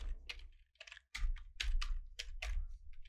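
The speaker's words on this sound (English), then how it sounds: "just go to the our URL and just type localhost" Fingers tap out a short burst of quick, uneven keystrokes on a computer keyboard, heard close and clear with brief pauses between clusters of clicks.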